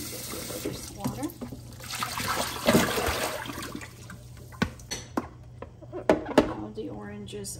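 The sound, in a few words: pouring away water from orange peels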